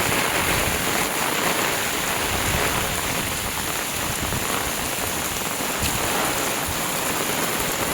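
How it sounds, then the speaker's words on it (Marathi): Heavy downpour in a Konkan village, a dense, steady wash of rain drumming without a break, loud and close, with no voices. "पाऊस थोडा कमी झाला होता, परंतु आता अचानक वाढला आहे"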